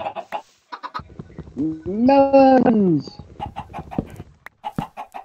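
A short burst of chicken clucking from Minecraft livestock, one loud drawn call in the middle with a person talking before and after it.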